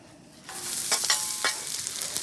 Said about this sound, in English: let's go ahead and get some of these veggies going here. And I'm going to start by dropping down some oil